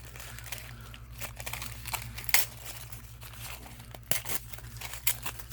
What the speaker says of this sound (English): I can just rip this.